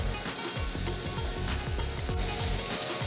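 Onions fry in sesame oil with a loud, steady sizzle up close and rhythmic stirring scrapes running through it.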